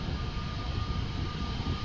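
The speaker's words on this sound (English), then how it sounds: "this is an A320neo from EasyJet outbound to Manchester" An EasyJet Airbus A320neo airliner at Amsterdam Schiphol Airport produces a faint, steady distant jet rumble with a thin whine on top, heard alone for a brief moment.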